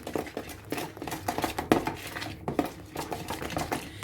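A spoon stirring a mixture in a bowl, with repeated close clinks and scrapes of metal against the bowl in an uneven rhythm, no talking.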